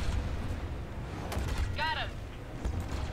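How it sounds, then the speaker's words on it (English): Blaster and gunfire from a Battlefront 2 space battle crackle in scattered bursts, with a brief descending whistle and a continuous low rumble underneath. "Gunfire everywhere."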